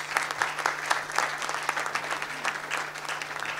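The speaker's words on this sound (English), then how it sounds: "Round of applause." Audience at a Democratic state treasurer debate clapping for candidate Paul Mangieri, a moderate crowd of separate claps with a steady low hum beneath, continuing evenly before tapering slightly.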